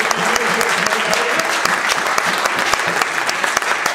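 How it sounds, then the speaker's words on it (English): Loud, sustained applause from a church concert audience at Community Lutheran Church, dense, even clapping from many hands throughout with no talk over it. "Please give them a big round of applause for what they do."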